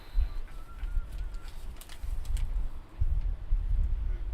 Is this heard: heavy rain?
no